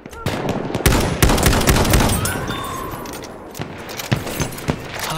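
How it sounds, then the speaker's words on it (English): Gunfire from an enemy machine gun in the World War I shooter Battlefield 1, with sharp bursts of repeated shots at close range, a dense volley early on and scattered shots toward the end. "Enemy machine gun sighted!"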